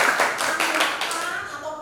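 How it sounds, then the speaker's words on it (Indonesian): A class of students claps hands together during a lesson, a short burst of brisk, rhythmic clapping close by that softens and trails off within two seconds. "Oke, tepuk tangan dulu."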